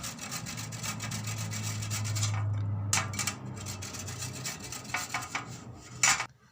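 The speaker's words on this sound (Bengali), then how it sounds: "একটা গেটার নিয়ে গেটার দিয়ে আমি এটাকে এইভাবে পুরোটাই কুড়ে নেব" Peeled ginger is rubbed against a metal grater in steady rasping strokes close to the microphone. A low hum runs underneath, and a few sharper scrapes and knocks come near the end.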